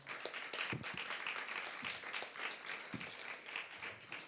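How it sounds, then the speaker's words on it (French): A conference audience at a French rail industry training event applauds speaker Jean-Jacques Mogoro, a moderate round of clapping with a few sharper claps standing out. "Merci de l'applaudir."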